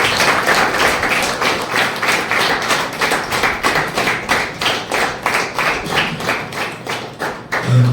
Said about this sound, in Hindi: सभी लोग जोर से तालियां बजाकर स्वागत करेंगे